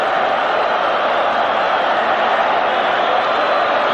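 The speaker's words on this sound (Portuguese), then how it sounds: "Torcida gritando Mengo, Mengo." Flamengo supporters fill a stadium with a dense, steady roar of crowd noise, the massed voices of the football crowd chanting without a break throughout.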